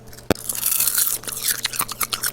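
Crunchy oven-baked kale chips, tossed in olive oil and salt, snap loudly at the first bite, followed by a run of close, crackling chews that come in quick uneven pulses.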